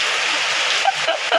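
Heavy rain pours in a steady, loud hiss of falling water, with a few brief splashy spatters near the end and no clear voices.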